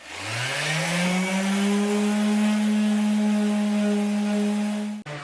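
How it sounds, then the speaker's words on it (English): A power sander scuffs a countertop with 220 grit sandpaper, a loud steady motor whine that spins up at the start and holds constant before cutting off abruptly near the end. "sand down the top of this countertop with some 220 grit sandpaper"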